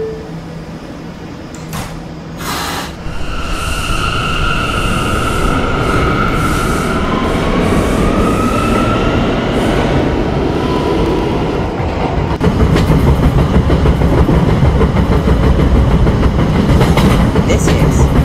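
A Roblox R179 D subway train runs steadily with a continuous rumble and rail clatter, with tonal whines rising mid-run and a louder stretch near the end; no talk.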